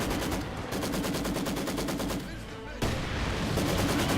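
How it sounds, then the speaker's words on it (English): Machine guns and a field gun firing in Company of Heroes 2, a dense continuous rattle of rapid bursts with a brief dip and a sharp resumption near the end. "MGs of all kinds churning out bullets. Field gun also firing here."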